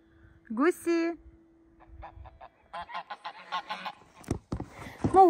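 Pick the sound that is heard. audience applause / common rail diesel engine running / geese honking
geese honking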